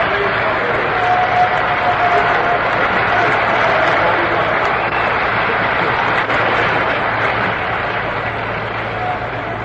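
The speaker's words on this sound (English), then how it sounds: "Johnny Podres getting the round of applause he richly deserves" A ballpark crowd at the 1955 World Series Game 7 between Brooklyn and New York applauds pitcher Johnny Podres, a steady broad roar of clapping and crowd noise that holds for the whole stretch, with faint broadcast background under it.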